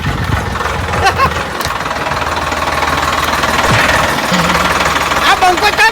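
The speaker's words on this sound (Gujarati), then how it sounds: "ટ્રેક્ટર બંધ કરો" A tractor engine idling loudly nearby with a rough, knocking diesel chug that pulses steadily throughout, while people talk over it.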